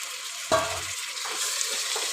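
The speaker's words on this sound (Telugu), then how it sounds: "ఒక మూత పెట్టి చికెన్ అయితే ఆయిల్లో ఫ్రై చేసుకోవాలి." Chicken frying in oil in a pan for biryani, a burst of sizzle at the start that settles into a steady, close hiss under a lid.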